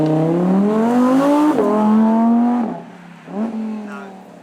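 An Audi R8 V10 Celebration Edition supercar at an outdoor supercar show revs its engine loudly and close, the pitch rising steadily then dropping off before a second shorter blip, with no talk over it.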